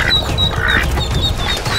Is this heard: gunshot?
no